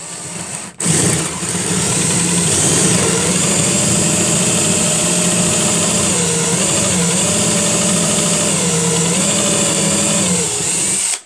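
A steady motorized whir runs almost unbroken for about ten seconds, its pitch dipping slightly a few times as a drill bores holes through material for a pencil holder.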